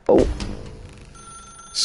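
A telephone rings in a video game, a short loud bell burst at the start that fades into a quieter lingering tone, with a brief bright chime returning at the end.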